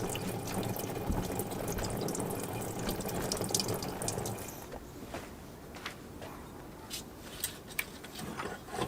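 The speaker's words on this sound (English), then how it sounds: "Just started removing the lines, and of course making a mess of coolant." Coolant running and dripping from disconnected turbo lines on an RB25 engine during an HKS GT-RS turbo install, a steady close trickle with loose splashes and drips that thins out partway through.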